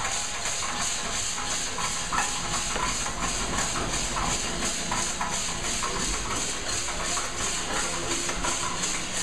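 Steam hissing from a gasifier coffee roaster during the steam phase of roasting, a continuous loud hiss with a steady mechanical whir and rapid rhythmic pulsing throughout, no talk.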